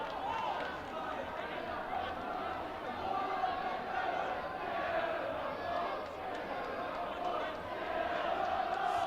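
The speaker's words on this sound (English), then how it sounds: "Get out of our club is the cry from that Hamilton crowd" Hamilton football crowd at a Championship playoff match against Alloa chants in a broad, sustained roar, rising and falling in rhythmic waves, with a commentator talking over it.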